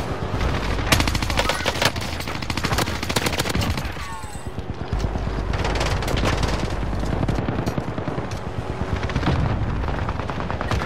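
Continuous automatic gunfire rattles through a Call of Duty: Vanguard match, loud and dense, with rapid bursts overlapping almost without pause and a brief lull partway through.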